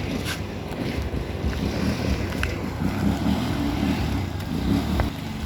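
Steady wind buffets a seawall by the sea in Barangay Calumpang, Oslob, Cebu, a constant broad rushing roar with low rumble, with faint wave wash beneath and no voices.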